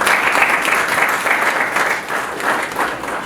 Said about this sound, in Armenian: Ծափահարեք